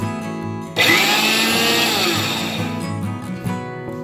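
A kitchen blender whirs loudly on pulse while making a moringa leaf vegetable dish. The motor kicks in abruptly and holds a strong whine for about three seconds before it eases down.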